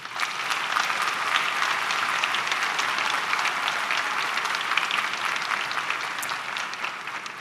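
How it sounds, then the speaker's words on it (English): An audience gives steady, sustained applause for educators at a high school commencement ceremony, a broad even wash of many hands clapping with no break and no talking. "Please join me in a thunderous round of applause for our Northwest educators."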